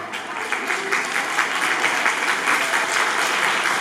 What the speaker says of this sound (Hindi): इन दोनों बच्चों के लिए एक बार जोर से तालियां हो जाए।